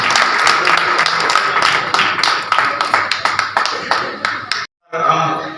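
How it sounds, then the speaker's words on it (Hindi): Audience at a Hindi book launch for the literary annual Katharang in Bikaner breaks into loud, dense clapping that stops abruptly near the end, with a voice speaking over and after it. "भावभीनी तालियां बजाकर नमन करें इन क्षणों को"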